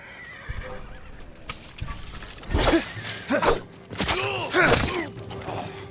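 Horses in the video game Ghost of Tsushima whinny loudly several times, with clopping hooves and a few thuds in between, close and clear with no talking.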